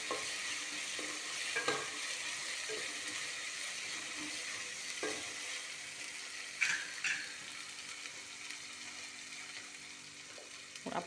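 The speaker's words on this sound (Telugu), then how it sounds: "మసాలా కూడా కొంచెము ఎర్రగా వేగిన తర్వాత" Masala frying in a pan for chicken curry, a steady soft sizzle with occasional stirring scrapes and clinks, close and alone without talk.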